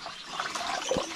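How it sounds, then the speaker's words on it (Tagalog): Water being poured or added into a container for a pet, a soft, continuous trickling and splashing at low level, with a brief gurgle near the end. "Dagdagan natin ng tubig."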